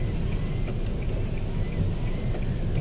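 Steady road traffic with many cars hums as a dense low rumble heard from inside a vehicle, with faint clicks and ticks over the continuous drone.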